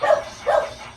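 A young dog named Tanggol, several months old, gives two short, close barks about half a second apart, with no talking over them.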